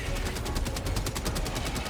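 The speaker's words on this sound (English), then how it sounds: "Machine gun turret there." Machine gun turret in Helldivers 2 firing a steady, rapid stream of close, loud shots that roll on without a break.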